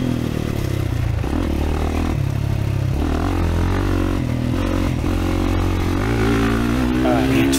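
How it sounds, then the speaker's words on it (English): A 2024 Kawasaki KX450 dirt bike ridden around the Eugene MX motocross track, its engine a loud continuous buzzing drone that rises and falls as the throttle shifts, heard close from on board, with a voice speaking over it. "I'm just out riding my dirt bike."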